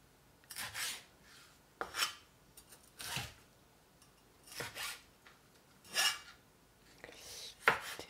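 An old kitchen knife chopping capsicum for a Greek salad, close rasping cuts on a board coming in irregular single strokes with quiet gaps between them.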